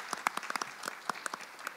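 Audience applause at a panel discussion, with scattered, distinct claps, fairly quiet and thin, like a modest crowd clapping briefly.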